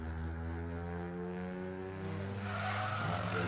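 A rally car at the Toyota Harlech Stages accelerates hard off the start line, its engine note climbing through rising pitches with a gear change and growing rasp, loud and close.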